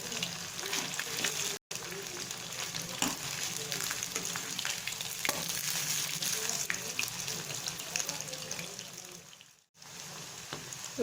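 Parai fish frying in a pan over a medium flame, a steady broadband sizzle and crackle running throughout, close and fairly loud, with two brief dropouts to silence.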